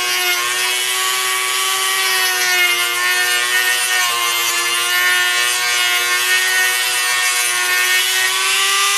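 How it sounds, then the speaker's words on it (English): A Dremel rotary tool rough-cuts a wooden fingerboard deck, giving a loud, steady high-pitched whine with a grinding edge that holds without a break throughout, no voices over it. "I did the whole deck out of the Dremel tool."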